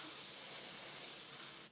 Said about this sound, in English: Like it won't spray the whole thing.